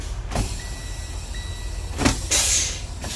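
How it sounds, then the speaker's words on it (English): A clunk, then a loud burst of hissing air as a truck's parking and trailer air brakes release in the cab, over the low rumble of an idling engine. "I'm gonna release my parking and trailer brake."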